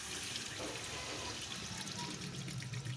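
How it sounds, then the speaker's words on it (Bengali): Water poured into a cooking pot on the stove to boil the dish, a steady continuous pouring and splashing sound heard close up for about three seconds with no talking. "এই যে এবারে একটু জল দেবো"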